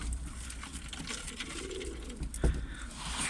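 Pigeons in a loft where newly hatched young are kept, with faint low cooing under soft rustling and shuffling and a single sharp bump, no talk.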